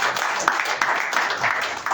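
Church congregation applauding during a service, with a brief burst of dense, lively clapping that fills the room.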